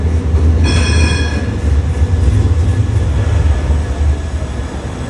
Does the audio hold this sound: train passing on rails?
yes